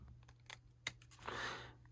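Bigger scissors trimming a paper craft piece, a brief sequence of crisp snips and clicks followed by a longer soft rustling cut, close and quiet with no talking.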